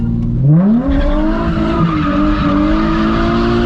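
A Nissan 350Z drifts and spins out, its engine roaring loud and close as the revs climb and hold while the tires skid and squeal beneath it.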